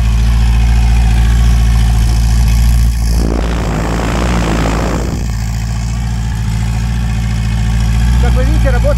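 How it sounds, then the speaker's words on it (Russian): Helicopter engine starting up and running steadily with a constant low drone, a louder broadband surge for a couple of seconds midway as it catches, then settling back to a steady run close by. "Ну, мотор завелся."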